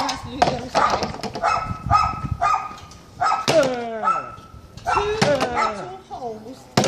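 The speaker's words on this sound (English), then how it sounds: "The dogs are not impressed with Nico's aggression" Dogs bark in sharp, repeated bursts with yips and whines, close by, mixed with a door thump and talk from people nearby.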